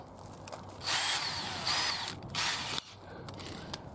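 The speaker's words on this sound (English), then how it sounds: "just put a bigger drill bit in there and see if I can get that flush." A power drill fitted with a larger bit bores into composite boarding fixed to a metal driveway gate, three short whirring bursts of drilling, close and fairly loud, separated by brief pauses.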